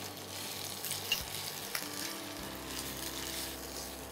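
Poppy seed paste frying in a pan for a Bengali shukto with kalmi greens fritters, a soft steady sizzle running throughout with a couple of small clinks, moderately quiet and without talk.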